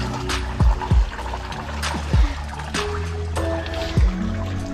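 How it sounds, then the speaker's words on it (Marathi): Borewell motor pump water flows steadily outdoors under shade trees, a continuous splashing pour with a few louder gushes and drips, near and fairly loud, no talk. "पाणी बघा मोटरचं चालूच आहे कंटिन्यू."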